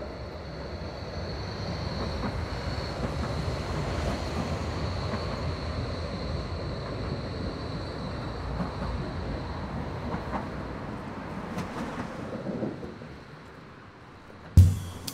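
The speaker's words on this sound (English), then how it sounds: "if we're lucky, a tram will come across" A tram rumbles steadily past across a bridge in Berlin with a low, rolling roar and faint metallic clatter, fading near the end before a sharp knock.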